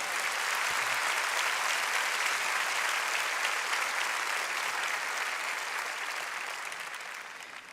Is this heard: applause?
yes